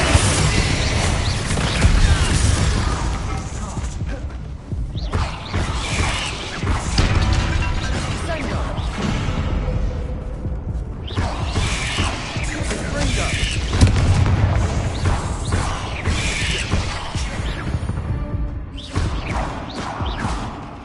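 Fire spell cast in Hogwarts Legacy, mixed into a dense, loud stretch of game combat with booms, crashes and whooshes that keep going. Someone speaks over the action.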